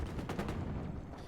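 Sniper rifle in a Halo match, a rapid burst of sharp gunfire cracks in quick succession, loud and close, with a fading tail.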